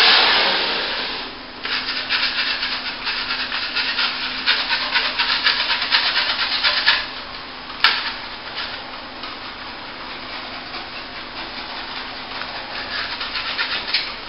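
A scraper rasps steadily over the plaster top coat on a plasterboard repair, a continuous close, gritty rubbing that runs for several seconds and then eases to a fainter scrape, with a sharp knock partway through.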